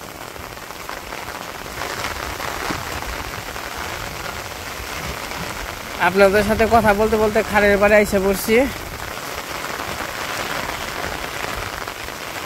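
Steady rain patters down over a Bangladesh village, filling the whole stretch as someone talks over it close by, with a brief louder tonal passage partway through.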